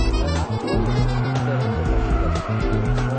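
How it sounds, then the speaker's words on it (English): An old car drifts sideways with its tyres sliding and squealing over the engine's roar, in loud, close bursts that rise and dip with the throttle. "You step on the gas and turn the car sideways."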